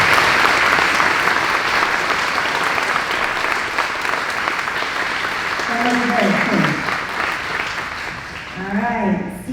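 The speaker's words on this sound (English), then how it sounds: "Can you please give a round of applause to our faculty and staff?" A graduation ceremony audience applauds faculty and staff, sustained loud clapping filling a large hall for several seconds, with a few voices breaking through partway and near the end.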